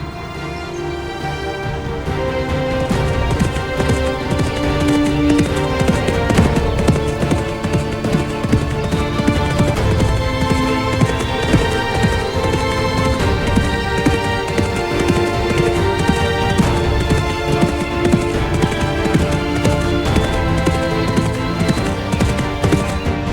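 Hooves of a galloping horse pound in a fast, continuous rhythm for over twenty seconds, loud and close, over a dense, layered backdrop with no speech.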